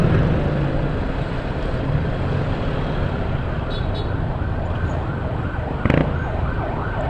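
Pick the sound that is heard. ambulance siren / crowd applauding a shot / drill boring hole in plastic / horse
ambulance siren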